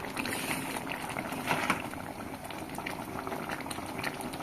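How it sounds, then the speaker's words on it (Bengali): Ghugni curry seasoned with salt and coriander leaves bubbles steadily in a pot, a continuous close rolling boil with no pauses. "ফুটছে।"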